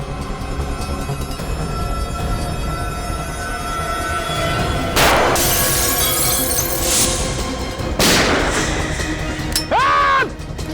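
Gunfire in a TV crime drama: two sharp, loud bursts stand out over a dense, continuous background bed, with a brief voice near the end.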